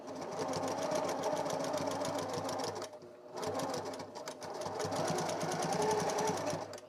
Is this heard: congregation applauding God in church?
no